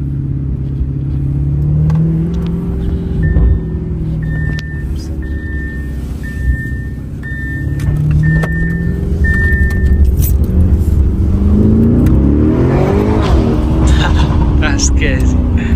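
A 2024 Lamborghini Urus Performante with an Akrapovic exhaust in Corsa mode rumbles deep and close while driving, its engine note rising and falling with revs. A few short electronic chimes sound midway, and a voice is heard briefly.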